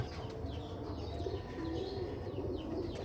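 Pigeons cooing with a soft, continuous low throaty khur-khur rumble, a steady murmur of several birds close by with faint background noise.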